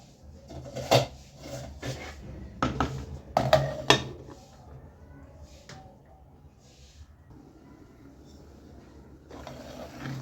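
Hard knocks and clatters sound close by as a lid goes onto a pot of cooking tomatoes, a cluster of sharp clunks in the first seconds, then near quiet with a faint bump or two.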